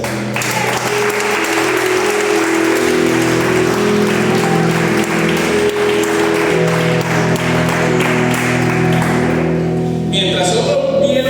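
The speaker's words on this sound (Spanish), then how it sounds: "Denle un aplauso al Señor." Church congregation gives a sustained round of applause, dense steady clapping filling the room, with music tones humming beneath and fading near the end.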